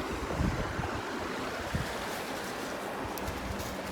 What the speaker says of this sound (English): Cassie's just splashed right over my wellies.